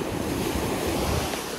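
Black Sea waves wash in steadily at Sochi on an April day, a loud broad rush of surf mixed with wind buffeting the microphone, with no voices.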